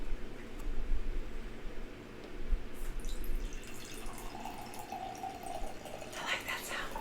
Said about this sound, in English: Now we're going to pour it into the glasses.